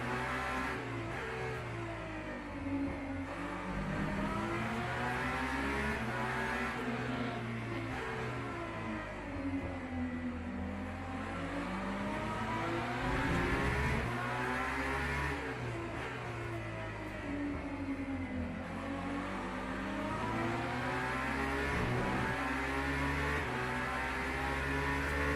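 A BMW race car engine drives on a track, revving up and dropping through gear changes in a steady, continuous drone that rises and falls in pitch, loud and close throughout.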